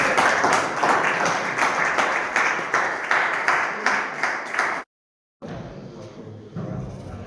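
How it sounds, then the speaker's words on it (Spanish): Seminar audience applauding in a room, a dense run of clapping with rhythmic surges for about five seconds, then a brief silence followed by lighter crowd noise. "¿Aquí no hay aplausos o qué?"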